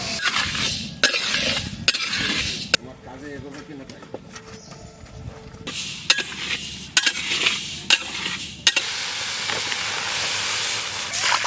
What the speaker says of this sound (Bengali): কড়াই চাপিয়ে দিলাম, মুগ ডাল ভেজে নেব